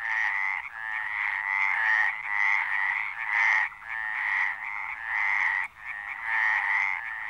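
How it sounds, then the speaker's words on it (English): Male common frogs in central Spain calling in loud, close, repeated croaking bursts, each lasting about a second with short pauses between, in a quiet setting. "There are common frogs here too, males fighting each other and calling for mates."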